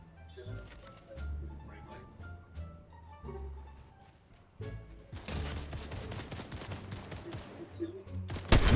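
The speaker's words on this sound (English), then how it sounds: "I literally shot him so many times." Video-game gunfire, rapid bursts of sharp shots that start sparse and turn into a dense, loud volley in the second half, with a player's voice talking throughout.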